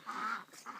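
A duck on a permaculture farm gives two short quacks, the first longer and nasal, the second brief, moderately near in a quiet setting.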